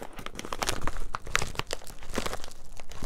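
Plastic shrink wrap on a vinyl album being ripped and crinkled, close and continuous crackling with sharp tearing bursts, no voices.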